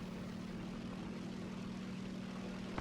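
A propeller aircraft droning in a video game, a steady loud engine hum with a strong low tone that holds for the whole stretch, no voices.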